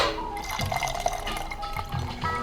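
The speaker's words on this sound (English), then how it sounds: "So I'm just gonna hold back the ice and pour." Red or white sangria poured from a pitcher into a glass while the ice is held back, giving a steady liquid trickle and splash running nearly continuously at close range.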